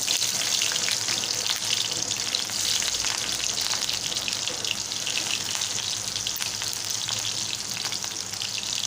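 Loud, steady sizzle and crackle of finely chopped onion frying in hot oil with green chillies, continuous and close, with occasional stirring and no talking.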